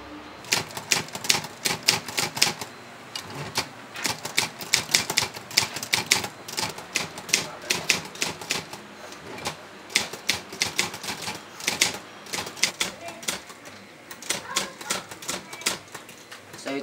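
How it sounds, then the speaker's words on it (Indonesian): A typewriter types the text of a proclamation in a school short film, clattering in quick bursts of close key strikes with short pauses, running steadily throughout. "Saya akan mengetiknya."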